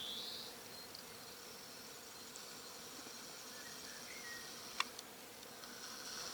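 Bees hum around a tall walnut tree, with rapeseed fields all around, making a faint, steady, distant buzz with a couple of brief sharp ticks near the end.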